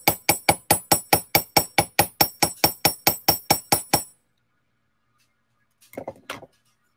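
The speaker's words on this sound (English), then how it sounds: "So this whole area is pretty work hardened where I hit it with the hammer." A hammer strikes bronze bracelet wire in a rapid, even series of about sixteen sharp metallic taps, loud and close. Silence follows, then a brief pair of lighter clinks.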